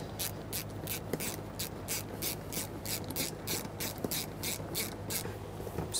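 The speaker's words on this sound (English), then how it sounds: "I'm just gonna use a bigger ratchet here, make sure it's nice and tight." A ratchet wrench clicks in steady, rapid bursts while tightening the fuel pump mounting bolt on a 2010-2013 Kia Forte Koup 2.4L, with even repeated strokes close up over a low background hum and no talk.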